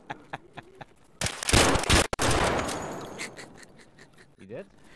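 Escape from Tarkov gunfire starts with sparse sharp shots, then a loud, dense burst of rapid fire that decays into a long rumbling tail, with players talking excitedly around it.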